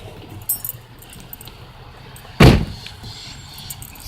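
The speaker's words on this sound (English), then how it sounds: "Getting out of the car." A car door opens and shuts with a solid slam at night in a cemetery, with keys jingling faintly before it; close, mostly quiet otherwise, one loud thud standing out.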